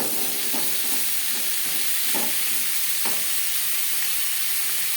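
Papaya curry being stirred in a pan with salt and turmeric, a steady sizzling hiss with a few soft scraping strokes of the spoon scattered through, close and continuous, no talk.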